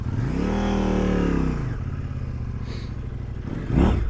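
A KOVE 800X adventure motorcycle close by, its engine note climbing on a rev for about a second and a half, then settling to a steady idle-like rumble with a brief louder burst near the end.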